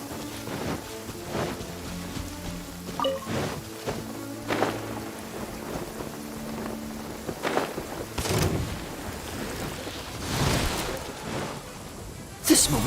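Steady rain patter in a video game, with broadband bursts that resemble thunder rolls swelling near the end, and a faint voice talking over the wet background.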